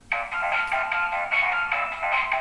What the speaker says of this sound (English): that EGAD ringtone, my actual ringtone